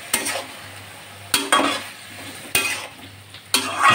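Eggplant and drumsticks fry in a pan with a constant low sizzle, broken by four sharp scraping stirs of a spatula against the pan, evenly spaced and close.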